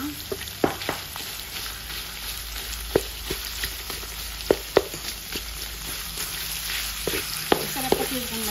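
Shrimp paste (alamang) frying with pork in a pan, a constant hiss of sizzling broken by scattered sharp clinks and scrapes of a utensil stirring, close and alone without talk.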